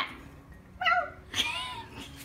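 A cat gives two short meows in a quiet indoor room, both close to the microphone, with a brief pause between them and a fainter sound trailing after.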